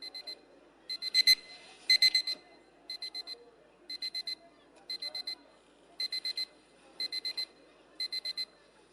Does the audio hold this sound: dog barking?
no